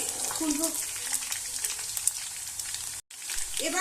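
Cauliflower florets fry in hot oil with a steady, dense sizzle that crackles throughout, broken by a brief hush near the end before the spitting resumes, with a faint voice at moments.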